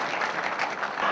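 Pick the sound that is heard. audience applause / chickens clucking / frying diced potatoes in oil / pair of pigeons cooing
audience applause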